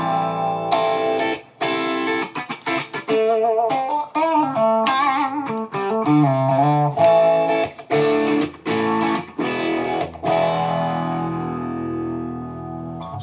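An electric guitar through an MXR Phase 90 pedal plays a melodic riff with a swirling, sweeping phase effect, ending on a sustained ringing chord.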